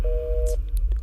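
A telephone busy tone after a call is cut off: a single short electronic tone, clear and alone, ending abruptly.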